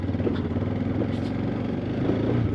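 A TVS Apache RTX 300 motorcycle climbs a trail with a steady, mid-pitched engine hum and a few slight throttle swells, heard close over a constant rumble.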